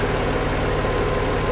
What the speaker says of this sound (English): If we just turn the engine off